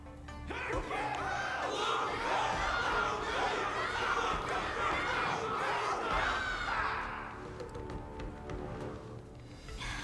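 Cheering crowd in the Honkai: Star Rail video game, a loud, sustained wash of many voices shouting together that thins out near the end, leaving quieter background murmur.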